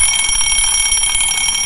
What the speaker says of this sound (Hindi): जब अलार्म बजता है तो ये क्लॉक बंद पड़ जाता है